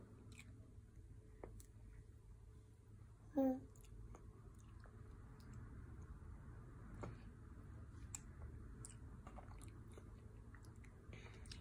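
A baby girl chews vegetables, making soft, close, wet chewing and biting sounds over a low background hum, with one brief louder squeal and some quiet adult speech.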